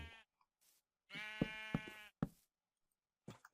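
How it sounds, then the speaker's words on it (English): A Minecraft sheep in the Feed The Beast modpack lets out a long, wavering bleat, followed by a few short clicks and quieter game sounds. "Damn it, sheep. Get out of here."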